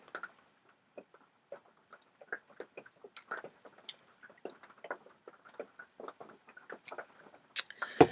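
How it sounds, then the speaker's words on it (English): Light rain pattering as sparse, irregular drips and taps, close and quiet, with scattered louder drops. "And the rain is kind of lightening up, so that's good."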